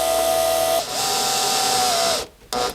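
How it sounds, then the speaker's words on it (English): A powered driver whines steadily as a screw drives a security camera mount down into a piece of wood, the high-pitched tone dipping briefly, then cutting out near the end before a short final burst. "I'm going to screw it down onto this piece of wood"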